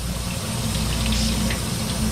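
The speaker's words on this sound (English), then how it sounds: "Put on some cold water again." Cold water runs from a kitchen sink tap while potatoes are prepared for hashbrowns, a steady close gushing stream that fills the sink without any talk.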